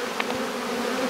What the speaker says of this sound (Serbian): Evo, koja je to ogromna količina pčela